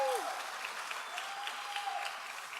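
An awards ceremony audience claps and cheers for a volunteer, a steady wash of applause from a large crowd that holds at an even level throughout.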